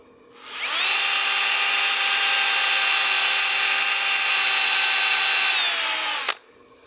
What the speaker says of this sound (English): you can use that sandpaper to help smooth out your radius and your curves as well